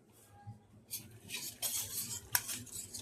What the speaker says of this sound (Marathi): आपण मिक्स करून घेऊया